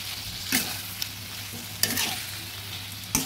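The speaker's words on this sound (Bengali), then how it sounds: "ভালোভাবে নেড়ে দিচ্ছি।" A spoon scrapes and knocks around a pan of cauliflower, potato and tomato curry in a gentle sizzle, with several distinct clinks spaced a second or so apart over a steady frying hiss.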